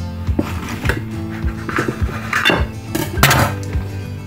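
A knife cuts through an oven-baked egg roll on a dish, giving scattered knocks and clinks of utensil against plate at an irregular rhythm, close by.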